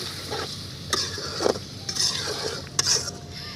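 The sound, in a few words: stirring chicken with spices in a pan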